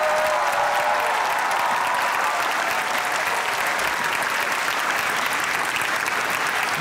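Studio audience applause on the comedy show Hasna Mana Hai, a sustained, even roar of many people clapping that stays steady throughout, heard alone without talk.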